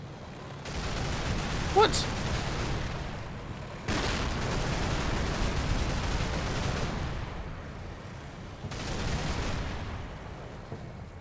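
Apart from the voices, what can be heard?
gunfire from the video game Combat Mission: Cold War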